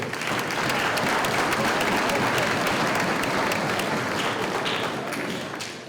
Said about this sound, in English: So how about a nice round of applause for all of you?